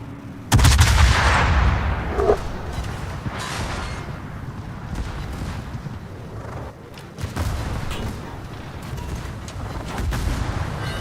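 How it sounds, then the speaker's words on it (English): Naval gunfire in the World of Warships video game: a loud heavy salvo booms out, followed by rumbling reverberation and several more thudding shots, with no talk. "I said to shoot it, Jack."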